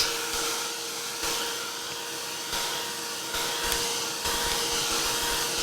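A heat tool blows steadily over art journal playing cards, a continuous close whooshing roar that pulses slightly as it is moved, with no talk.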